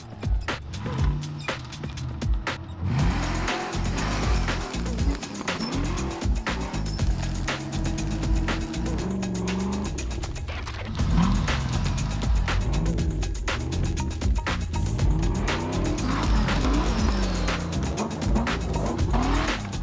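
A powerful V8 engine roars and revs hard with rising and falling pitch, tires scrabbling, as an off-road vehicle races close by.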